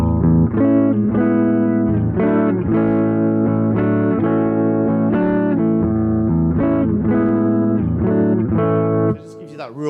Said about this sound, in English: So if you bring the drive all the way down and turn the volume up, you get this really nice kind of warm sound like this.